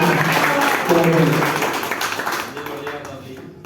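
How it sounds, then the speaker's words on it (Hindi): Audience applause at a live poetry recital fills the stretch with dense clapping that gradually thins and fades, a voice briefly heard amid it. "तालियां"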